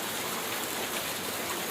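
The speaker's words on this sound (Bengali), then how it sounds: "সকাল থেকে অনেক ভারী বৃষ্টি" Heavy rain pours down in a dense, even hiss, steady and moderately loud for a brief stretch, with no voices.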